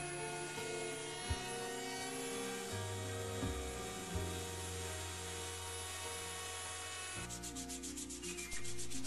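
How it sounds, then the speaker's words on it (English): Continuous scratchy rubbing of sandpaper by hand on wood, steady and close, with a brief change in texture near the end and no talking. "I haven't found a better way to do the final touches other than with hand sanding"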